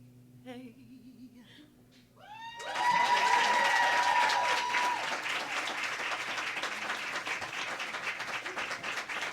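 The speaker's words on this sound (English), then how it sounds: "let's keep clapping" Open mic night audience breaking into applause after a singer finishes, a few sung notes over guitar giving way to loud, sustained clapping and some cheering that holds steady to the end.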